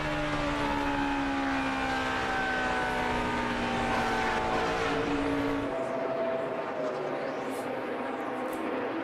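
NASCAR stock cars at full throttle during the 2008 Ford 400, their engines roaring loudly with a sliding, pass-by pitch that fades toward the end, under a commentator's voice.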